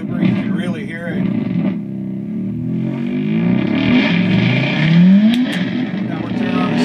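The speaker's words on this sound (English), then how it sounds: "It's going to start self-oscillating. You can barely hear it, but when you crank on the feedback looper, you can really hear it." A feedback looper pedal self-oscillating into loud, warbling electronic noise with sweeping, siren-like tones, continuous and close, heard alone without talk.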